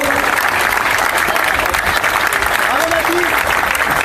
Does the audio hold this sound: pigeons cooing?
no